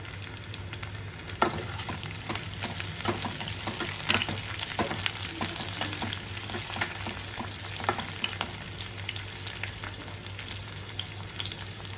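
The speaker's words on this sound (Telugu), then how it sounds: "2గా చీల్చి వేసుకోవాలి. ఇందులో మిరపకాయల తర్వాత ఒక రెబ్బ కరివేపాకు," Slit green chillies and curry leaves fry in hot oil in a pan for pepper chicken, a steady close sizzle and crackle broken by scattered pops and spoon stirring, with no voices.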